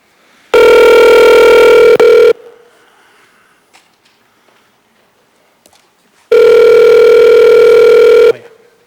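At a municipal assembly meeting, a loud, steady electronic telephone line tone sounds twice in long blocks while a phone caller is connected, with quiet room noise and faint clicks between them.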